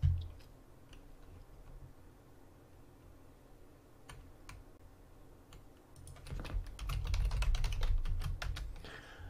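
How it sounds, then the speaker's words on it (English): Fast keystrokes on a computer keyboard, scattered taps at first and then a dense burst of clattering typing near the end, close and fairly quiet with no talk. "I'm typing in the Discord."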